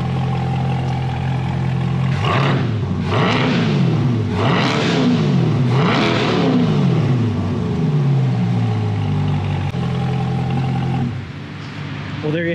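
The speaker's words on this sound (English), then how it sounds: "Give it a quick rev one more time." A car engine idles steadily, then revs up several times in quick bursts, each rise and fall clearly audible before settling back to idle.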